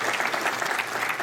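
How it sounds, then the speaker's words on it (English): Applause from attendees at a state climate council meeting, a brief steady patter of many hands clapping at moderate volume with no voices over it. "let's just keep doing the applause"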